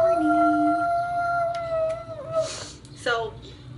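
Several voices imitate Snoopy's howl from Race for Your Life, Charlie Brown, giving long, wavering, drawn-out tones that hold and then break into a shakier, fading wail.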